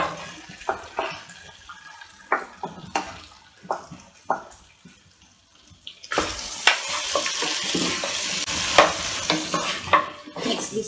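Cooked mutton tipped into a pan of caramelized onions and potatoes, first scattered scrapes and knocks of a spoon, then a louder steady sizzle with repeated stirring scrapes, close up.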